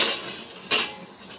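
A metal lid lifted off a pot of cooking tomato pickle gives two faint, brief clinks against the rim.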